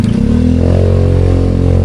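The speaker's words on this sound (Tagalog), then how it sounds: "Saka nang ingay pa naman ang motor to." A motorcycle engine revs loudly up close on a back road near Baguio, a rough steady roar with the pitch rising briefly, and no talk.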